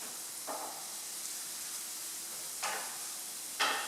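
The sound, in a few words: stirring herbs into onions frying in a pan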